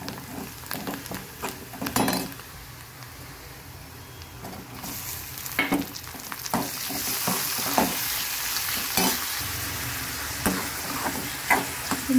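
Tomatoes sizzle and fry in a hot pan as the base for a bottle gourd (dudhi) curry, a continuous hiss broken by close spoon-stirring scrapes and light clinks, with no talking.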